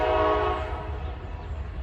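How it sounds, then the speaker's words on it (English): A train passes close by, sounding its horn in a loud sustained blast over a deep rumble that fades slightly toward the end, with no talking. "And there's the train."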